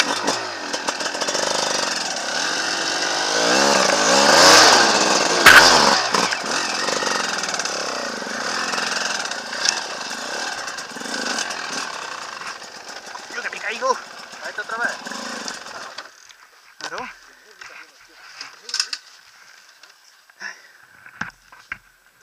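Enduro motorcycle engine on a rough off-road trail starting up and revving loudly, busy and strained at first, then dropping to uneven bursts and sputters, with people talking over it.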